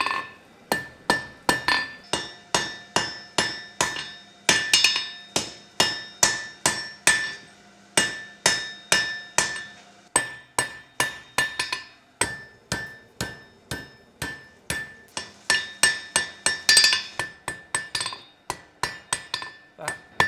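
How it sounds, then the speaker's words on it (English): A German pattern hammer forges a square point on a bar, striking metal in steady, bright, ringing blows that come near and loud in quick series, each with a short clang, with no one talking. "The hammer I'm using is a German pattern."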